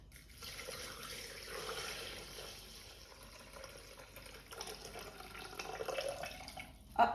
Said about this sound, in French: Donc là, on va mettre 750 g d'eau.